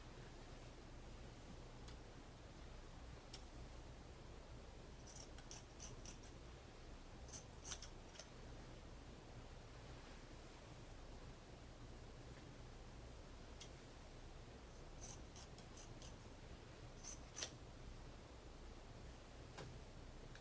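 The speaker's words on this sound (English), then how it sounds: "So I'm going to cut off the other 3 sides as well." Scissors snip through fabric while a no-sew pillow is trimmed, quiet clusters of short crisp cuts in a few bursts over a steady low background hiss, with no talking.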